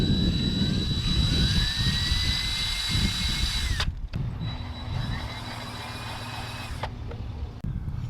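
A power drill whirs steadily at high speed while spinning a board for acrylic pour painting, its whine rising and falling in pitch, stopping briefly near four seconds and again near seven, loud and close with no talking.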